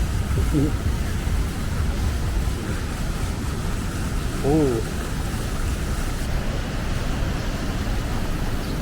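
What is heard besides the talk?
Manavgat Waterfall rushing water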